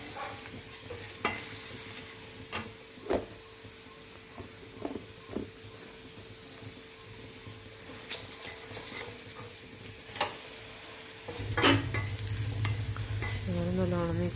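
A pan of vegetable biryani masala with home-ground garam masala is stirred and scraped, with a steady sizzle underneath, scattered utensil clinks throughout, and the frying growing louder and fuller near the end.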